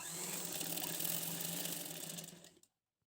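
Up close, a sewing machine runs in a steady, fast whir as it stitches a baby frock made from a blouse piece, then stops abruptly, leaving silence.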